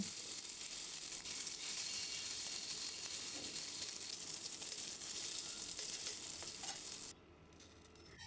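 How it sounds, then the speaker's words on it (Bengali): Fish frying in hot oil in a home village kitchen until browned reddish, a steady dense sizzle with faint stirring, continuous and close for about seven seconds before cutting off near the end. "মাছগুলোকে আমি একটু লাল করে ভেজে নিব"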